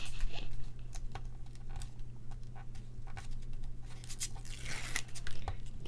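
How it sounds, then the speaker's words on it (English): Paper peeled up from a double diamonds embossing folder in a crafting session, soft tearing and crinkling rasps over a steady low hum, close and moderately quiet. "we'll just peel this up"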